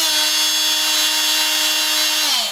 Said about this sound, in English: This is my old multi-tool.